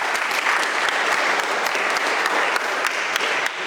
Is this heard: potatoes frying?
no